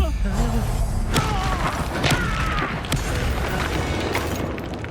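The Confringo blasting spell explodes in Hogwarts Legacy, a series of booming thuds and bursts with crackling debris, loud and close, mixed with game voices and combat effects.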